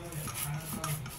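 Hands mix and knead methi puri dough, a soft continuous rubbing and squelching scrape, close and fairly quiet, with no talking.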